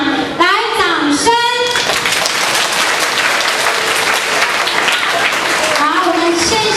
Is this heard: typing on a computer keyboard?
no